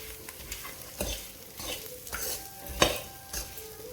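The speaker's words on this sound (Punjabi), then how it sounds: "ਉਹਨਾਂ ਨੂੰ ਆਪਾਂ ਭੁੰਨਾਂਗੇ ਥੋੜੇ ਟਾਈਮ ਵਾਸਤੇ ਲੋ ਟੂ ਮੀਡੀਅਮ ਗੈਸ ਤੇ" Carrots and garlic for a homemade pickle roast in a pan over a low-to-medium gas flame, giving a steady soft sizzle broken by repeated scraping stirs and light utensil knocks.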